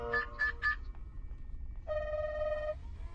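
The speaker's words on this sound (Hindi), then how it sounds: "फोन पर बेल तो जा रही है। बज रहा है।" A mobile phone ringtone chirps in three quick bursts from under a table, then a longer sustained ring tone follows, fairly faint over low background rumble.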